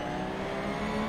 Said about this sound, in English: Does anybody have any idea why the engine sounds stalled when you go into gear if you're not moving?